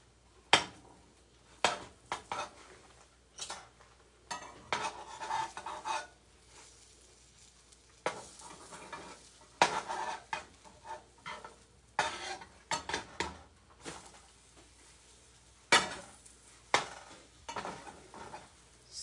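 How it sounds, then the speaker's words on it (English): Cinnamon French toast sizzles faintly in a frying pan during a live cooking session, with repeated sharp scrapes and clinks of a utensil against the pan as the slices are turned, coming in irregular bursts. "So I'm turning around my toast right here."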